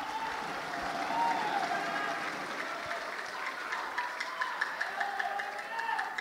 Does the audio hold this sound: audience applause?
yes